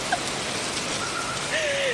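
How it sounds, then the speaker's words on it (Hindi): Heavy rain pours steadily outdoors at night, a dense continuous hiss of drops drumming on surfaces, close and loud throughout the short stretch with a faint voice-like tone near the end. "खूब जम के बारिश हो रही है।"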